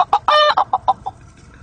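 A voice imitates a rooster with a short, close crowing call followed by a series of choppy clucks that fade out, heard alone.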